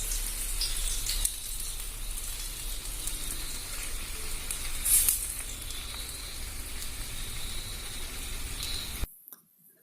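Fish sizzles while frying in oil Kerala style, a steady crackling hiss with occasional louder pops, close and continuous, ending abruptly in silence.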